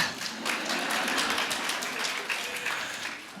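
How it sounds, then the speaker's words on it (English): An audience clapping during a talk at the All About Women 2016 event, a dense, even patter of many hands held at moderate loudness throughout. "You're clapping now."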